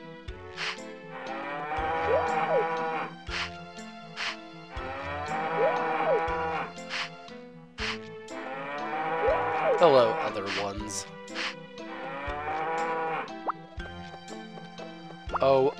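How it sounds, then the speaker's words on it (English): Cows in Harvest Moon 64 moo in long, drawn-out calls, several in a row, over a plinking, dripping game backdrop, while a player speaks briefly. "Oh, other cows."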